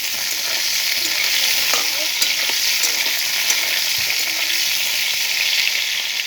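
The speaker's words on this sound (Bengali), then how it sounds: "আমি শুধু ভেজে নেওয়ার মধ্যে পটলটাই ভেজে নেব" Pointed gourd (potol) pieces frying in oil, a dense, even sizzle with light clinks and stirring scrapes now and then, close and steady with no voices.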